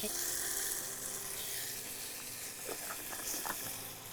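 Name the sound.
mutton masala with tomato sautéing in oil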